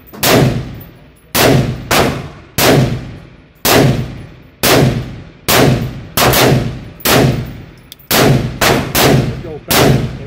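A newly built SCT19 compact frame handgun test fired, about ten loud sharp bangs in uneven succession, some in quick pairs, each ringing out briefly with no talking.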